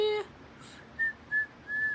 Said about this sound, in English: That's why I'm whistling.